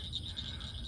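A giant bullfrog calls in a brief, steady, pulsing trill, close and fairly loud over a low rumble, with no speech.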